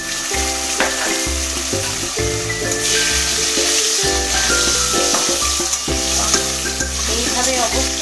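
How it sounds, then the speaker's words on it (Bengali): Cut potato pieces sizzle steadily as they fry in hot oil and are stirred, a continuous crackling hiss under a bed of tonal music with no talking. "এবার টুকরো করা আলুগুলোকে ভেজে নেব। আলুগুলোকে খুব ভালো করে লাল লাল করে ভেজে নিতে হবে।"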